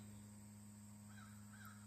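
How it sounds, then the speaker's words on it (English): Outdoors, a crow caws a few times faintly in the distance over a steady electrical hum and a high constant whine, with no voices. "I like to pay attention when the crows start talking, see what's going on."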